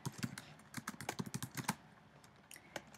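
Typing on a computer keyboard while entering a table title in Excel: a quick, uneven run of close key clicks for nearly two seconds, then a pause and a couple of final taps.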